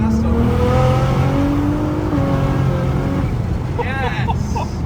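A Nissan GTR engine revs hard while driving, loud and close, with rising and shifting tones climbing through the gears over steady road and cabin roar, a voice briefly audible near the end.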